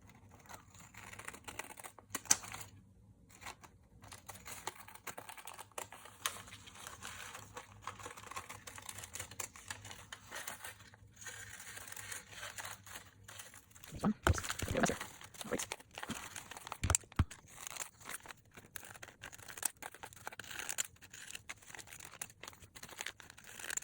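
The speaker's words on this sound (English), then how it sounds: "you're just going to cut these circles" Scissors snipping through coffee filter paper to cut circles, a quiet run of small crisp cuts and paper rustles, close up, with a denser burst of crinkling and snips partway through.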